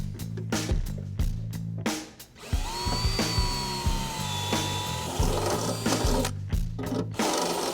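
Metal punching or drilling through a firewall plate on a Detroit Muscle S10 truck build, with several bursts of whirring tool noise and mechanical clicks over a steady low hum, close and fairly loud.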